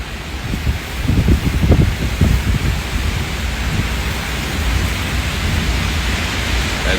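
Roaring wind and heavy rain from a derecho windstorm with destructive gusts, a steady loud wash of noise with deeper rumbling thumps near the start.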